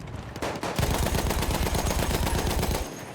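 A mounted cannon fires in Battlefield 1, a World War I shooter, in a fast steady stream of heavy thudding shots that stays loud and close for a few seconds.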